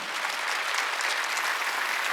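A congregation at a Korean church Wednesday worship service breaks into dense, steady applause, many hands clapping together at close range and sustained without a break, with no voices standing out.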